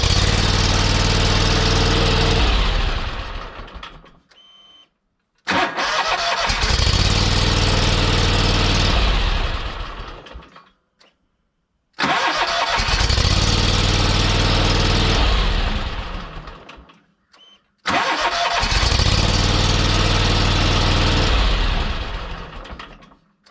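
Zero turn mower engine cranking to life and running at idle, repeated several times with loud steady engine rumble cut off by short silent pauses in between.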